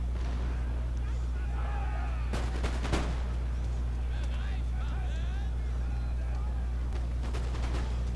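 Cannon artillery fire in a video game battle: a sharp booming shot near the middle followed by scattered distant blasts over a constant low rumble, with someone talking throughout.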